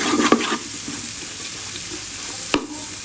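Mixed chopped vegetables for fried rice hit a hot pan and stir-fry with a steady hiss. Sharp scraping clatters of a utensil come near the start and again just before the end.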